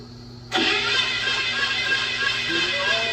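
A car engine cranks over and catches with its valves moving, a loud, dense mechanical roar bursting in abruptly after a brief quiet start and holding steady close by.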